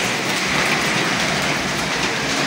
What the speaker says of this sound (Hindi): हर तरफ ओले ही ओले हैं, अभी भी बरस रहे हैं ओले